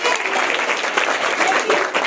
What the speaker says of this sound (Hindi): जोरदार से ताली बजाइए